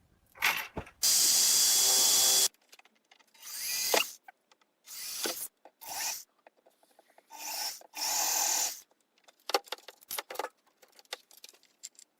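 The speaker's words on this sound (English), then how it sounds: "So I'm gonna pre-drill the hole for the screw." A power drill whirs in several short bursts while pre-drilling a screw hole in wood, the first burst longest, with pauses and small clicks and handling noises between runs.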